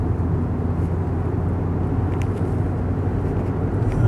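A 2.0 TS Alfa Romeo 156 pulls away on a straight track, its engine a steady, fairly close rumble that holds at an even level throughout, with no voices.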